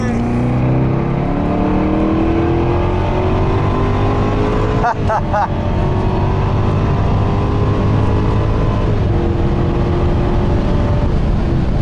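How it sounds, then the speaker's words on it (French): A powerful supercharged V8 car engine roars steadily up close, its pitch climbing as it accelerates and dropping briefly between gear changes. "ce moteur il est très sympa, hein. Le V8 à compresseur"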